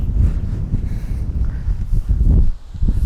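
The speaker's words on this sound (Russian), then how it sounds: "Что-то подул ветер и начинает дождь капать." Wind gusts and buffets against the microphone near an abandoned Soviet sanatorium as rain begins, with a low, steady rumble and no other distinct sounds.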